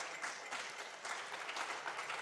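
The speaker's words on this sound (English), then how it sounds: "Please clap for them." Continuous, even applause fills the hall for the contestants of a junior science and maths quiz championship, many hands clapping at once at moderate loudness without any talking.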